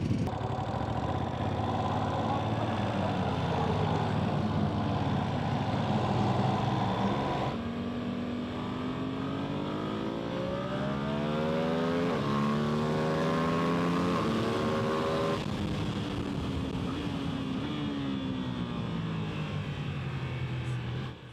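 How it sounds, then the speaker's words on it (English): Ducati Panigale V2 S sport motorcycle ridden hard around the Donington Park circuit, its engine loud and close throughout, revving up and down through gear changes with rising and falling pitch sweeps, no talking. "You join me in my third and final session around Donington Park on the wonderful Panigale V2S."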